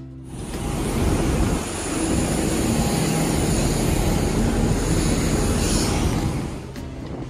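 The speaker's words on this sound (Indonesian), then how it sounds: "kita mendarat di Bandara Soekarno-Hatta" A passenger airplane lands at Soekarno-Hatta airport, a loud, steady engine and rushing roar heard from inside the cabin that swells after the start and drops slightly near the end.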